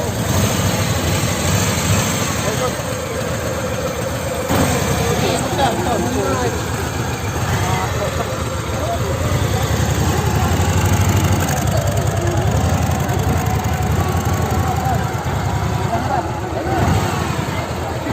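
Harley-Davidson motorcycles idle at a dealership in Cavite with a low, steady rumble running throughout, while people talk over it nearby.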